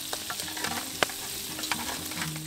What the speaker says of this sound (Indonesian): ini goreng ayamnya udah kering, kita angkat.